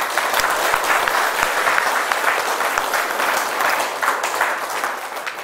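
Sustained audience applause at a Balinese Hindu dharma talk by Ida Bagus Sudarsana, a steady, dense wash of clapping that holds at an even loudness from start to finish, with no voices over it.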